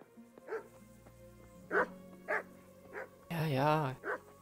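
A dog in the medieval game Kingdom Come: Deliverance gives a few short, separate barks and yips with pauses between them, heard clearly alongside game ambience and a low background hum.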